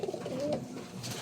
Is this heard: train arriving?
no